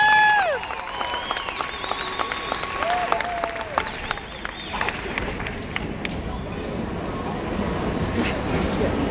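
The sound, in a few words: audience applause for Sombra del Monte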